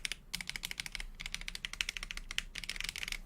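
Fingers type quickly on a custom-built, unlubricated mechanical keyboard, producing rapid, crisp, clacky keystrokes in uneven bursts with short pauses, close and clear with no talk.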